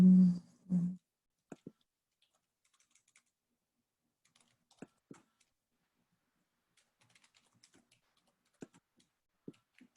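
Sparse keyboard keystrokes click in short isolated bursts and small clusters, quiet and close, with long pauses between them and a brief low thump near the start.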